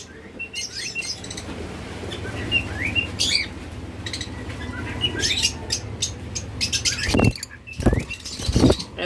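Pet lovebirds, cockatiels and budgerigars chirp and tweet in a lively overlapping chorus, with sharp calls, a few wing flaps and a low background hum.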